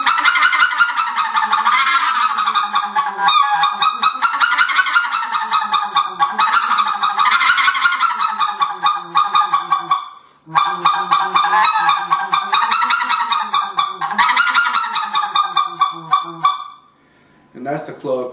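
A Riceland Custom Calls specklebelly goose call blown in repeated runs of clucks that step from low to medium to high tones and back, loud and close with brief pauses between sequences, no talking.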